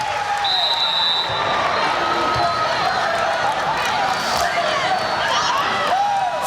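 Arena crowd noise swells steadily at a women's college volleyball match, Hawaii versus Arizona, with cheering and scattered applause holding loud and constant throughout, under a broadcast commentator's talk.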